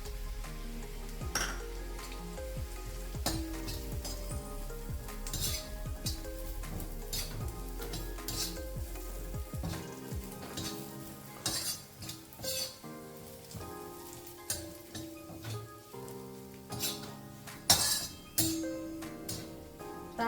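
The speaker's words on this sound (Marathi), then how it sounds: "अशा प्रकारे आपण खोबरं पण भाजून घेतलेलं आहे।" Grated coconut and curry leaves roast in a pan for a Maharashtrian amti, giving a soft, continuous sizzle with scattered crackles and light scraping, close and fairly quiet, with no talking.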